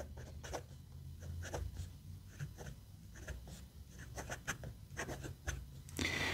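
Tianzi piston-fill fountain pen in Mystery Blue scratching across Rhodia paper, close up, with a quick irregular run of nib strokes over a low room hum and a louder rustle at the end.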